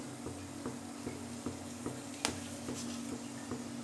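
Whole garam masala, cardamom and cinnamon, hitting hot oil in a pan gives a soft, steady sizzle with faint spoon ticks and one sharp clink near the middle, close and quiet with no talking.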